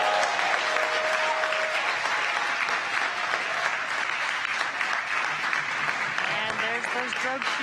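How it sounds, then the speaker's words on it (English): A large crowd applauds and cheers steadily as a spacecraft's drogue parachutes deploy before splashdown, dense clapping filling the space, with a faint tonal sound drifting in underneath. "you can hear the crowd here very excited to see them deploy"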